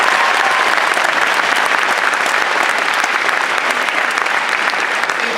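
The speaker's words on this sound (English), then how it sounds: "A big round of applause for these students." Sustained applause from a crowd at a high school graduation ceremony, a dense, even roar of clapping for the graduating students that holds steady throughout.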